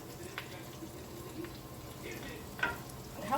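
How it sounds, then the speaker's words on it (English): Arancini rice balls fry in hot oil, a quiet, steady sizzle with soft crackles and a few brief pops, close by in a home kitchen. "You can hear them sizzling."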